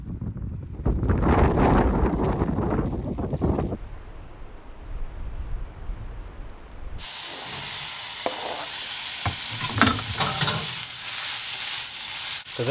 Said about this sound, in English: What was gonna be a little stir fry on top of white rice